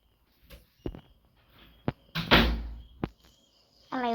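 A door opens and closes in a quiet room: scattered soft clunks and bumps, then a louder thud and rattle near the middle, followed by a few faint knocks and a brief higher-pitched tail at the end.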